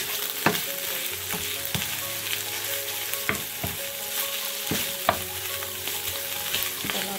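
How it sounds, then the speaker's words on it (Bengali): Tuna cream frying with onions in a tablespoon of hot oil gives a steady, close sizzle, broken by sharp scrapes and taps of a spatula stirring the pan at irregular intervals, with no talking. "তেলটা গরম হয়ে গেছে, দিয়ে দিচ্ছি এরপর পেঁয়াজের মধ্যে দিয়ে দিচ্ছি টুনার ক্রিমটা"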